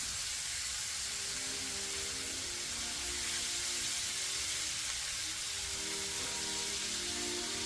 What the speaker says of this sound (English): Toss it, making sure each side is fried evenly.